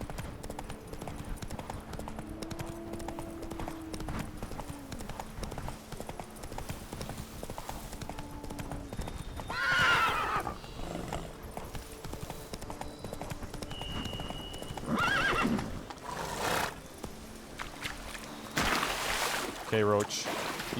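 Roach the horse in The Witcher 3: Blood and Wine clip-clops steadily at a walk, with a brief whinny and some water splashing, while someone talks over the game sounds.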